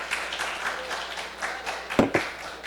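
A church congregation applauds in scattered, moderately loud claps that keep going for a few seconds, with one sharper burst near the end.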